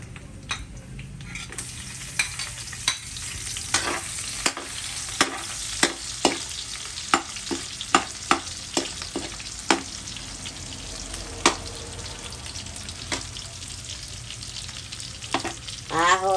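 Garlic sizzles steadily as it fries in a pan, with frequent sharp clicks and scrapes of a utensil stirring through the oil, close and continuous without talk.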